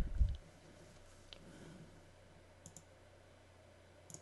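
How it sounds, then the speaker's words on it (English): A computer mouse gives one sharp, close click at the start, followed by a couple of faint, light clicks later over a quiet, steady hum. "And click on register."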